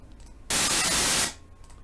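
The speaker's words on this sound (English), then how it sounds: "We'll go ahead and go back to white noise." A burst of loud, steady hiss of generated white noise test tone cuts in abruptly, holds for under a second, then drops away to a faint background.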